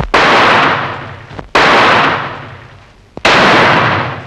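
Three loud gunshots from an old 1951 Bollywood film ring out about a second and a half apart, each a sharp crack followed by a long, fading echo.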